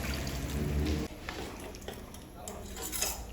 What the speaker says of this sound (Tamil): இப்போ 1 டம்ளர் தண்ணி ஊற்றுறேன்.